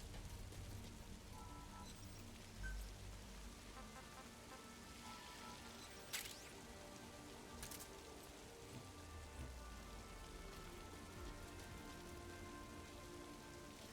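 Steady rain pours down in the video game Metal Gear Survive, a constant dense hiss of drops on surfaces with a couple of sharper splashes, heard alone without talk.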